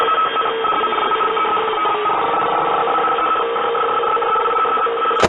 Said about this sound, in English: Mangle also only makes static radio noises